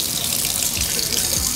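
Lukewarm water running from a sink tap, a steady close hiss and splash, loud and continuous throughout, with no talk.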